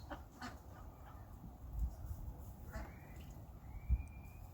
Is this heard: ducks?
yes